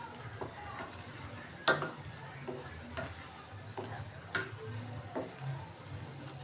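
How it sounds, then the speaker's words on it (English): A spoon stirs a crayfish and okra stew in a pot, giving soft scraping and occasional sharp clinks against the pot over a quiet, low background simmer. "So after you add your okra, you stir the soup."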